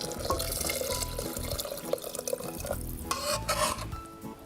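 Four cups of water splash and pour into a pot of rice for khichdi in uneven bursts, with some stirring and clinking of metal.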